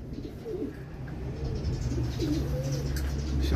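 A racing pigeon coos in soft, rolling phrases, repeated several times near the microphone over a steady low hum, with no talk.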